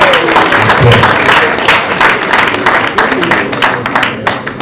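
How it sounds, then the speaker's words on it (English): Loud applause from a conference audience at a Nigerian Bar Association event, many hands clapping briskly with crowd murmur, a voice briefly heard near the start. "one more sounding applause"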